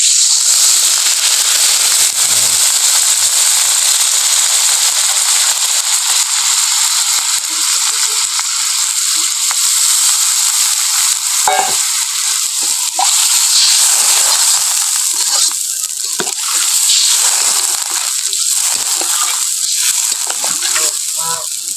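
Loud, steady frying hiss of quail meat in a pan right after water is poured in, spitting and crackling throughout with occasional sharper pops, close to the listener and without talk.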